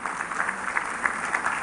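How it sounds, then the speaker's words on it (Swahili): Audience at a funeral service clapping for a musician, a dense, even wash of applause from many hands, moderately loud and slightly distant. "tupigie Karis makofi"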